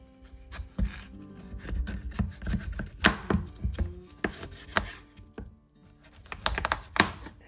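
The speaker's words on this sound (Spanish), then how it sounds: "La quiero cortar un poco" A knife cuts through a very hard pumpkin, making irregular dull knocks and scraping crunches, close but fairly quiet with pauses between strokes.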